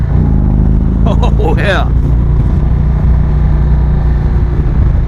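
A 2020 Indian Springfield motorcycle rides in second gear, its engine loud, close and continuous, with a brief rev sweep early on and someone speaking briefly over it.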